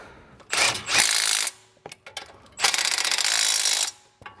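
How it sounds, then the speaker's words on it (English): An impact gun tightens brake caliper carrier bolts on a BMW E90 3-Series during a front wheel bearing job, firing two loud, close rattling bursts of roughly a second each, separated by a brief pause. "I'll just use the impact gun to tighten them down"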